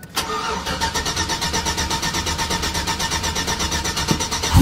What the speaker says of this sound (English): Now, we just gotta fire it up.